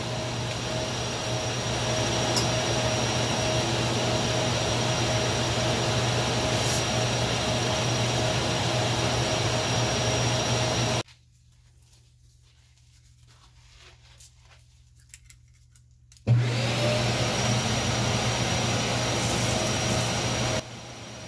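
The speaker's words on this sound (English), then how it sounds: "So here I'm using my new dust collection setup." A woodworking dust collection system built behind a wood lathe runs with a steady, loud broadband roar, cuts out abruptly for several seconds of near silence, then switches back on at full strength.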